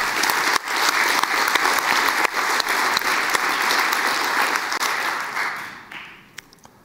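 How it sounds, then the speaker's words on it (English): Conference audience applauding at a network operators' meeting closing session, a dense burst of clapping that holds steady for several seconds and then tapers off to a few scattered claps. "Give them applause."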